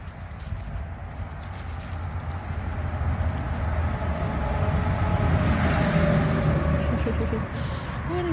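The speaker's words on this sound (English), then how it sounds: "Them big trucks." Big trucks pass on a nearby road during an outdoor puppy socialization walk, a continuous low engine rumble that swells to its loudest past the midpoint and then eases, with no voices.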